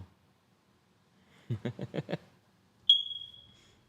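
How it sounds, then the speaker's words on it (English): A dying fire alarm detector gives one short, high, piercing chirp indoors, heard after a brief cluster of muffled knocks, with no talking. "Do you have a fire alarm detector dying?"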